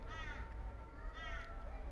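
Two harsh, raspy bird calls, each about a third of a second, sound faintly over low background rumble.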